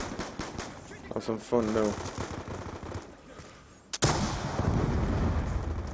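Gunfire in a Call of Duty Black Ops 2 Domination multiplayer match: dense bursts of automatic fire and loud shot blasts, building sharply after a sudden crack, with a voice talking over the opening.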